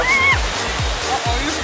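Water rushes and roars around a boat on a wild river ride at Inwałd Park amusement park, a dense constant wash close by, with voices calling out above it.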